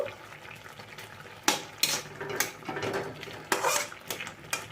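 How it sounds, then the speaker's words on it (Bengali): A spoon clinks and scrapes against a pan while mustard powder is stirred into a kachki fish chorchori curry, several sharp knocks over a faint bubbling background, nearby and without speech. "সেই সর্ষের গুঁড়োটা এর মধ্যে দিয়ে দেব ভালো করে মিশিয়ে দেবো"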